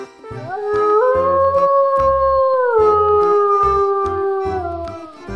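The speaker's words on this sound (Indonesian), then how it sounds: "suara serigala." A lone wolf howls in a long, sustained wail that rises slightly and then slowly falls in pitch, clear and fairly close.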